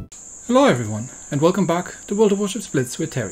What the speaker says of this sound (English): you'll be hearing the crickets and cicadas and birds and everything that's going on